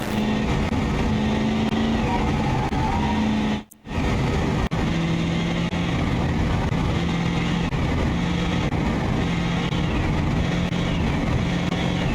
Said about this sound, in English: And that's definitely supercharger because I can hear the whine.